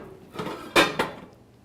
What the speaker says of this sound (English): take out a frying pan